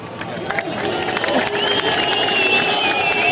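A large crowd at a PM Modi event breaks into applause and cheering, a swelling mass of clapping and voices that builds steadily louder, with a shrill whistle-like tone rising above it in the second half.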